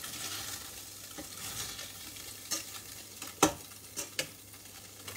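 Fish frying in a pan with soft continuous sizzling, punctuated by a few sharp scraping clicks of stirring or turning, close and fairly quiet with no talk.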